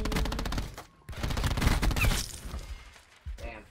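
Sharp gunshots from a Call of Duty Black Ops 4 one-on-one match, loud clustered bursts with brief silent gaps between them.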